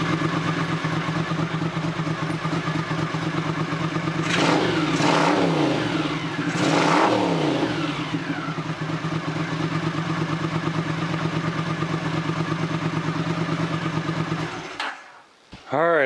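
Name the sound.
Honda CX500 motorcycle engine running and revving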